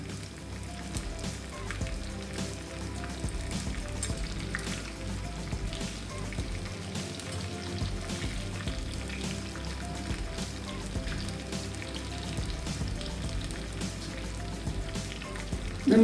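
Chilies, curry leaves and onions fry in oil for an onion chutney, giving a steady, dense crackling sizzle that holds at an even level throughout.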